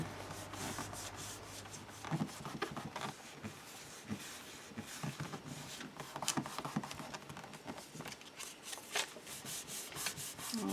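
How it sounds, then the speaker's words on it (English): Glued paper is rubbed down onto a collage page. Soft, scratchy rubbing strokes repeat close by but faintly, with irregular small bumps of friction. "To rub both sides just to make sure that the glue has stuck"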